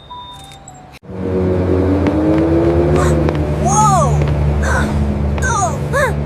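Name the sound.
bus driving off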